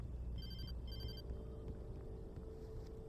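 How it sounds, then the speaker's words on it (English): A cell phone rings in Alan Wake Remastered with two short, bright electronic trills early on, over a low, rumbling, foggy ambient bed. "Cell phone."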